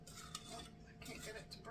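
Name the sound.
breaking up butter with a utensil in a pan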